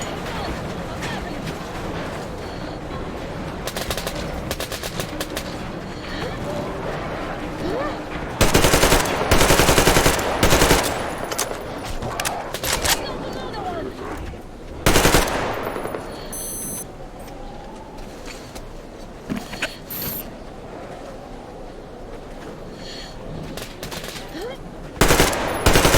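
AK rifle fire in Metro Exodus comes in bursts of rapid automatic shots, loud and close, with quieter stretches of game ambience and someone speaking between volleys.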